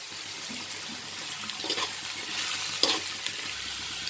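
Cabbage, capsicum and carrot sautéing in a pan for gobi fried rice, a steady close hiss of frying with a few soft stirring scrapes, and no talk.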